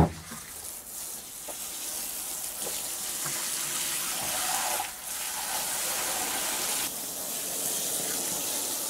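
Water poured from a tap into a soil blocking mix for seedlings as it is stirred, a steady gushing hiss with short breaks, close and fairly loud.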